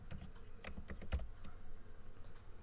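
Computer keyboard typing while entering text into an Excel spreadsheet for an inventory management system: quick, irregular clacking keystrokes, close and clear, with no talking.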